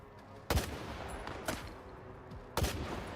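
Three loud gunshots from a rifle in S.T.A.L.K.E.R. 2, sharp separate bangs spaced about a second apart, each with a short rumbling tail and no talking.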